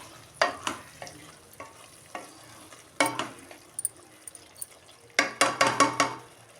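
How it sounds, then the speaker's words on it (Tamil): Okra gravy with jaggery being stirred in a pan, close scraping and clacking strokes of a spoon in separate bursts with brief pauses, over a soft background sizzle. "கொஞ்சம் நாட்டு சக்கரை மறுபடியும் மிக்ஸ் பண்ணி விட்ருங்க"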